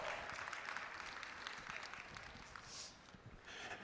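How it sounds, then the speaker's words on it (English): Applause for the reserve champion at a youth fair lamb show, a faint, distant spatter of clapping from a small crowd in a show arena, steady and sparse throughout. "Let's give her a big round of applause as well."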